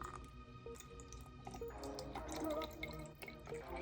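Water is poured into a spray bottle for a pet jumping spider's enclosure, a faint, close trickle with small drips and splashes that grows busier midway.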